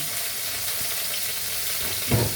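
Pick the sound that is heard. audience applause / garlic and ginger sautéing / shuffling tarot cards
garlic and ginger sautéing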